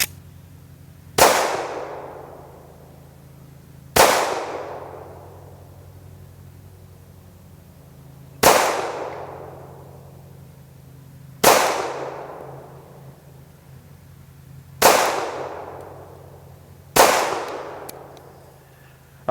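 Six loud, sharp gunshots from an SDS Imports Duty SS45 pistol are fired at a relaxed, uneven pace a few seconds apart, each with a brief ringing decay outdoors and no talking between them.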